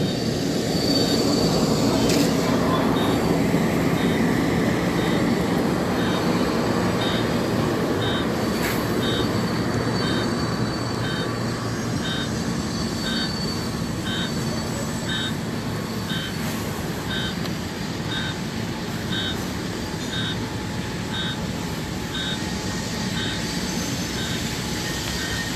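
A long train rolls through nearby, continuous rumble and wheel squeal with a repeating beeping signal sounding in the background.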